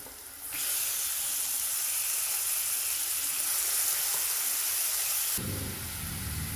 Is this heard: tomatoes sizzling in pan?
yes